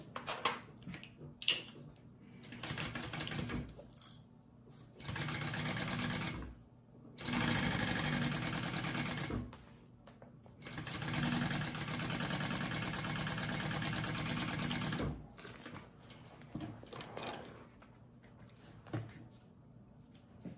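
A sewing machine stitching bag panels together at the seam allowance, running in several sustained bursts of steady whirring with quieter handling sounds and pauses in between, close by and without talk.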